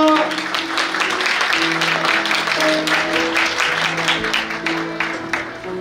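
Wedding guests applaud the bride and groom with a sustained burst of clapping, while sustained music tones play underneath throughout.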